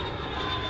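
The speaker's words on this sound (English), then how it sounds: "Jet, as in Boeing makes jumbo jet at their warehouse, as in Maverick flies a jet." A jet aircraft sound effect, a steady loud roar of engine noise with a sustained whine, continuous and close throughout.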